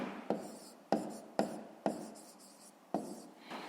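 Pen on paper while working a maths exercise: about six short, close strokes and taps at an uneven pace, with scratchy writing in between and quiet pauses.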